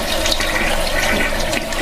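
Toilet flushing in a steady rushing wash of water, loud and close, continuous for the whole moment with no voices.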